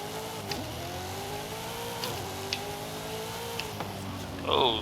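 A Ford De Luxe Coupe engine in the racing game Forza Horizon 5 hums and revs steadily in a drag car build, with rising and falling pitch sweeps and a brief tire squeal near the end.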